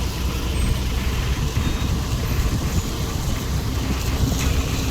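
Heavy road traffic on a Pune street, a dense, continuous roar of engines and tyres with heavy vehicles rumbling close by, steady and loud throughout.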